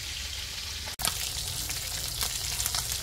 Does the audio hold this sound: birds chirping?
no